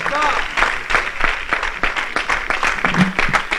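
Church congregation clapping along during a service, a dense, steady patter of many hands with louder rhythmic beats, mixed with voices in the room.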